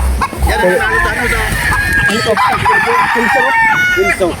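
Kelso gamefowl roosters crow loudly and repeatedly in a spacious backyard chicken farm, with clucking mixed in and people talking nearby throughout.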